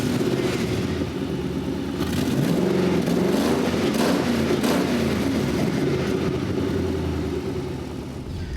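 Engine of a supercharged 550-horsepower Mazda B2500 pickup running steadily in a deep, continuous rumble, close and loud throughout with no one speaking.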